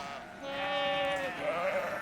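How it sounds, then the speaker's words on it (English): Sheep bleating in a pasture in the game Love and Deepspace, one drawn-out wavering bleat, close and clear, with no talking. "I waste no time heading straight for the sheep pasture."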